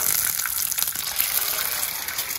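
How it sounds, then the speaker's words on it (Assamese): Chicken and duck eggs fry in a pan, a close, steady hissing sizzle with bright spitting crackle throughout and no voices. "এতিয়া কণী ভাজো"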